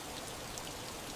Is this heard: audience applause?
no